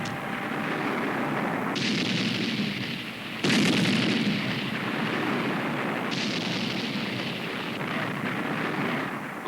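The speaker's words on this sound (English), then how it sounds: "When lava pours out near the sea surface, tremendous volcanic explosions sometimes occur." Volcanic eruption with molten magma bursting out, a continuous heavy roaring rumble with repeated surges and blasts, loud and dense with no voices.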